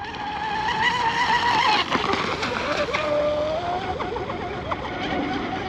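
A J&R Marine H26 RC boat with a modified hull runs on 6S power, its high electric whine steady and loud, pitch shifting as it turns into the wind, with wind and water noise throughout.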